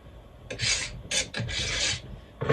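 Rubbing and cleaning loose bits from a ski base during base-repair prep makes four broad, raspy scraping strokes of about half a second each. They come in an uneven rhythm, close and fairly loud, with no talking.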